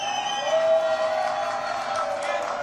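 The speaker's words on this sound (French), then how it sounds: "Applaudissements, s'il vous plaît." A French television studio audience cheers and claps after a guest introduction, a lively crowd wash with whoops and tonal cheering, fairly close and continuous.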